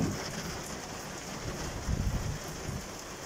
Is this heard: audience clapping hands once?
no